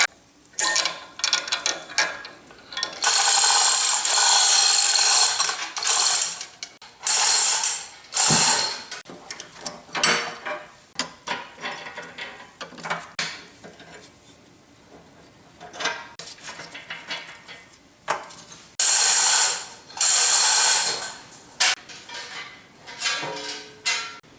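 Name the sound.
ratchet hoist being operated while removing Yates American B244 frames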